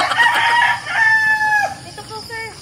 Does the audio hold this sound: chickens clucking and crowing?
yes